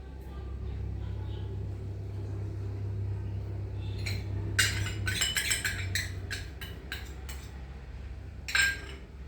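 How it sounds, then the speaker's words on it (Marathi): Dough mixed and kneaded with baking soda and curd in a metal bowl, giving a run of quick clinks and scrapes of utensils against the dish, close and moderately loud over a steady low hum. "हे सगळं मिक्स करून मळून घेते मी"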